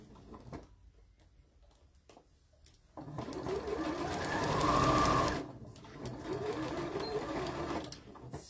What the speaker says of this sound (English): I'm going to stitch a couple of inches up.